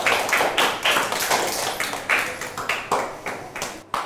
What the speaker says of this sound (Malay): Okey, bagi tepukan untuk kumpulan C.